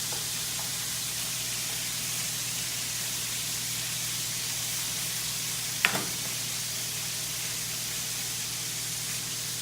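Chicken sears in a hot pan, giving a steady broad sizzle throughout, close and even, with one brief clatter near the middle and no voices.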